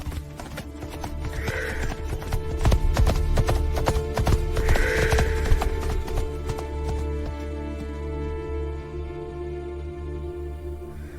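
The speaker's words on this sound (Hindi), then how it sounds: "पानी की तलाश में उसने अपने घोड़े की रफ्तार और तेज कर दी।" A horse's hooves gallop in a rapid clip-clop that grows denser and louder through the middle, with a steady sustained tonal backdrop underneath before the beats ease off.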